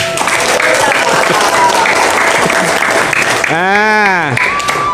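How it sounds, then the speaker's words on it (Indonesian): Applause for the first anniversary of the Taklim Ma'rifat study group rings out as a loud, dense crowd clapping, with a voice rising and falling over it near the end. "Tepuk tangan untuk anniversary Taklim Ma'rifat yang pertama."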